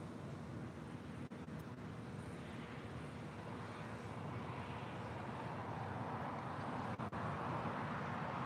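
Broad, steady roar of a jet aircraft at LAX airport, a sustained rumbling wash that slowly swells toward the end, heard from a distance without talk.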